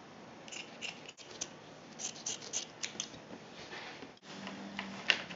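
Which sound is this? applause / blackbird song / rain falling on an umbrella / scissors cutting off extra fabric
scissors cutting off extra fabric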